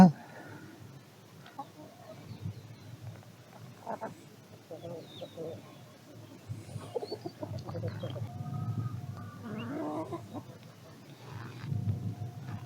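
Chickens cluck softly and intermittently nearby, with a rooster among them, as someone talks to them in a quiet outdoor village setting.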